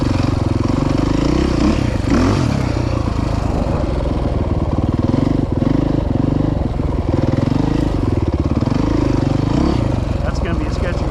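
A dirt motorcycle at the Croom Motorcycle Area rides through whoops, its engine revving loud and close in rising and falling surges as the throttle works over the bumps, with people talking over it.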